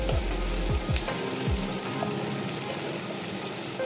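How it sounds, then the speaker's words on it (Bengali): Onions sizzle steadily in hot white oil in a nonstick kadai over a high flame, a dense, continuous frying hiss with a few low scraping stirs early on. "সাদা তেল গরম হয়ে এলে তার মধ্যে আমরা পেঁয়াজগুলো ভেজে বেরেস্তা করে নেব"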